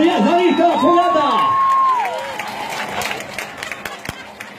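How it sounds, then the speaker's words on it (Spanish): An outdoor crowd at the 2018 fishermen's bonfire festival in Caleta Membrillo cheers, whoops and claps as the bonfire is lit. Loud shouted voices come first, then they settle into scattered applause and crowd noise. "Más fuerte ese aplauso, ya está lista la fogata."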